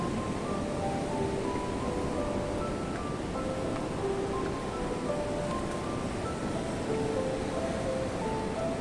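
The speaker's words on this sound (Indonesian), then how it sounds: "ombak terdengar begitu keras" Steady roar of ocean surf with wind noise at Watu Karung beach, Pacitan, a continuous wash of breaking waves with no voices.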